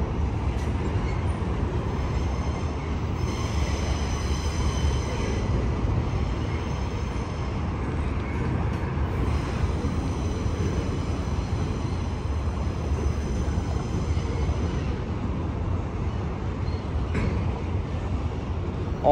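CSX freight train W018 with a caboose rolls across the Schuylkill River Viaduct, a steady low rumble of wheels and cars heard from a distance, continuous and even throughout with no talk.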